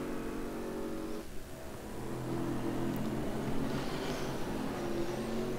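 Race car engine in the RaceRoom racing sim, an American car on an American track, droning steadily with harmonic tones that shift pitch as it revs, continuous and moderately loud throughout.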